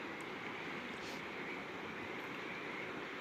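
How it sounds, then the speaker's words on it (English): Steady broadband rush of the Bear River flowing at around 150 CFS on a February day between rains, a continuous wash of moving water without distinct splashes, fairly loud and unbroken throughout. "But the water's still flowing."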